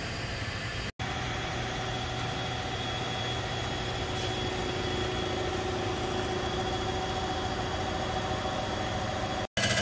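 A milling machine decks a Chevrolet 454 big-block engine block being built into a 498, giving a steady, dense mechanical drone with a constant hum and faint high whine, unbroken apart from two brief dropouts.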